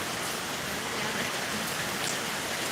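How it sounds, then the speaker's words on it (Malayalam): Heavy rain pours steadily and evenly, a dense unbroken hiss of drops falling on surfaces all around, with no voices or other sounds standing out. "നല്ല മഴ കേട്ടാ"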